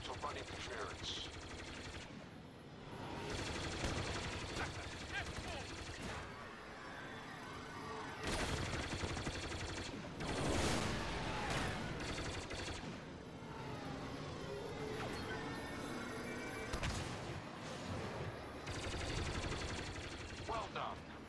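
Heavy battle cruiser cannons and blaster fire pound away through a Star Wars Battlefront 2 space battle, loud dense volleys with bursts and booms, radio voices talking over the barrage.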